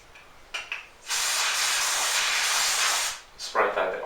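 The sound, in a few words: spraying oil onto a rag for air rifle cleaning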